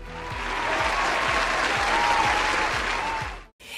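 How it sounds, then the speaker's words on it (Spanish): A crowd applauds loudly and steadily for a few seconds at an awards gala, the clapping dense and sustained before cutting off abruptly. "Recibamos con un fuerte aplauso a Alex Paga."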